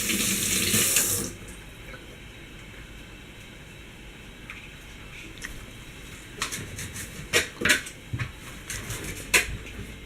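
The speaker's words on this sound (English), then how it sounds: "You have to make sure you rinse it very well, because sometimes there can be sand in between." Tap water runs into a kitchen sink while green onions are rinsed, a loud steady stream at first that then drops to a quieter trickle, broken by splashes and clatters toward the end.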